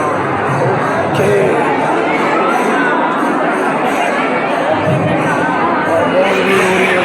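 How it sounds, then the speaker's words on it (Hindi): A large crowd of devotees fills the Jagannath temple with a dense, continuous roar of chatter and shouting, steady and loud throughout, with children's voices and occasional cheers rising from the babble. "बहुत भीड़ हो रही है भाई।"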